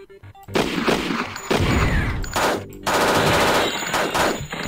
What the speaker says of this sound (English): I got an MP7 submachine gun